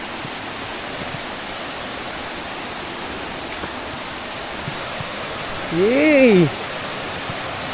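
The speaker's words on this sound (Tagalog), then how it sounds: "Ayun na, falls." Steady broadband rush of a waterfall near a Mangyan village in Puerto Galera, constant and close throughout, with a voice calling out briefly near the end.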